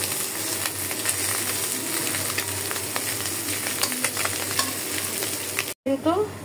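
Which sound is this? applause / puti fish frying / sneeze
puti fish frying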